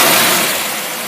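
An engine with a two-barrel carburetor held at high RPM, a loud close broadband roar that eases off slightly over a brief moment, with no talking.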